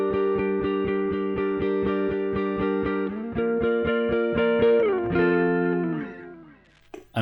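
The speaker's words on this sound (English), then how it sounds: "where it's just an analog chorus." A 1972 Telecaster Thinline electric guitar plays through a Line 6 M5 analog chorus patch: steady, rhythmically repeated picked notes shift to new chords, loud and shimmering, with no talking.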